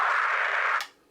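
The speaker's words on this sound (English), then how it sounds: "right here, I've got a scratch sample," A DJ scratch sample played from a DDJ-FLX2 controller: one steady, noisy, bright burst held for about 0.8 seconds before cutting off abruptly, loud and alone with no talking.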